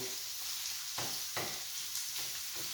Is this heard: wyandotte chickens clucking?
no